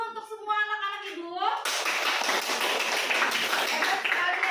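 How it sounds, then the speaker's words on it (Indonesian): Children in a classroom burst into clapping applause right after someone speaks, a dense, sustained patter of many hands that continues steadily to the end. "Tepuk tangan dulu untuk semua anak-anak ibu."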